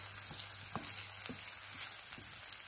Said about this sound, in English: in a pan, the first thing you're going to do is just saute one chopped onion